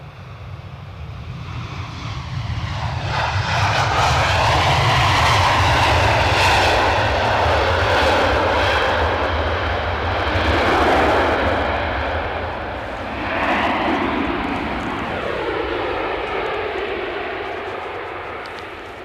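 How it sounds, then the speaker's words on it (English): A Ryanair jet arriving from Dublin at Edinburgh Airport roars loudly overhead, the engine noise building, surging twice, then slowly fading over nearly twenty seconds. "This Ryanair inbound from Dublin,"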